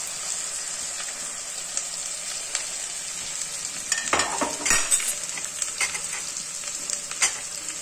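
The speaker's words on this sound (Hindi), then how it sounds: "थोड़ी देर मसाला को भूनूंगी।" Chopped onions, bay leaves and spices fry in hot oil in a pan for a mutton keema dish, giving a loud, steady sizzle with occasional scraping stirs and a sharper spatter burst midway.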